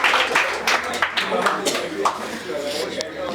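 Audience applause at an annual school function, a burst of dense clapping with sharp irregular hand strikes that rises quickly and then thins out, close and fairly loud in a hall.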